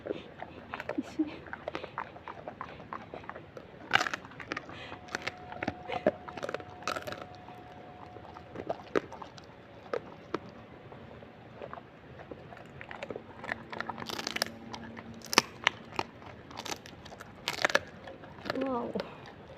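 A dog bites into and chews a crunchy treat, giving scattered close crunches and snaps amid quiet room noise while a person talks.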